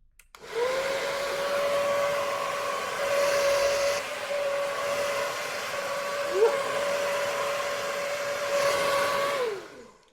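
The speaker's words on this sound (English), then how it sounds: "I just feel like it sits better when I dry it with an air dryer." A hair dryer blows steadily while someone dries and styles their hair, a loud, continuous whirring drone that holds an even pitch for about nine seconds and then cuts off, with no talking over it.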